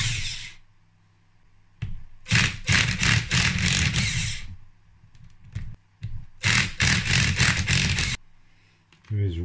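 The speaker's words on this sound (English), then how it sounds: "So now we'll get the 4 head bolts off" Cylinder head bolts being loosened on a Yamaha YZ engine with a power tool, heard as two separate bursts of loud, close, whirring rattle, each a couple of seconds long, with short quiet pauses between them.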